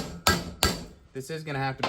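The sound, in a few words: hammering bearing race into Volkswagen Vanagon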